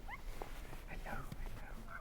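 Sled dogs on the snowy Kamchatka Peninsula, partly wolf-like in breed, let out faint high whimpers and short yips, with a few quiet barks mixed in over low background noise.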